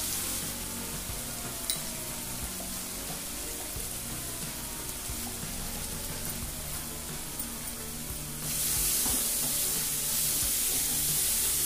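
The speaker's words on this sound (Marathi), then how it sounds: "हे मसाले व्यवस्थित परतले" Ground spices and ginger-garlic paste sautéing in a pan for a mushroom corn filling, a steady close sizzle with scraping stir strokes, the frying hiss growing brighter and louder near the end.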